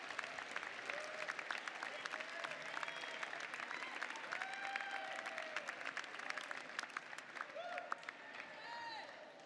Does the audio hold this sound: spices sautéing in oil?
no